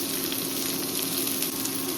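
Chopped onion frying in a pan for a Goan mixed vegetable bhaji, giving a steady, dense sizzle that stays close and even throughout with no talk over it.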